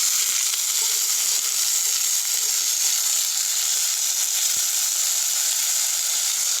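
Ridge gourd, potato and yardlong beans fry in a pan after tempering, giving an even, continuous hiss at moderate level with no talking.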